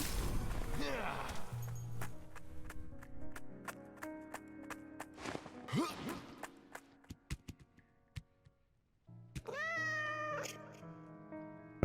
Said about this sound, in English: Whenever I stop moving, I meow.